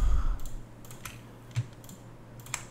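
Scattered computer keyboard taps and mouse clicks while selecting textures in Substance Painter, a few sharp isolated clicks spaced apart over a quiet low hum, close and with no speech.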